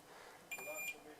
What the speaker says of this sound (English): I can check all of those positive terminals are connected up just by hearing that beep